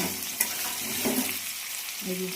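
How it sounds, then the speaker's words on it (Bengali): Potatoes frying in a pan make a steady, even sizzle with faint spoon movement, heard close and with no talk. "আলুটা আমার পুরো ভাজা হয়ে গেছে একদম"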